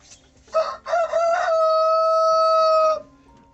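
A rooster crows once inside an insulated henhouse in snowy winter in Krasnodar, a loud close call with two short opening notes and then a long sustained drawn-out note.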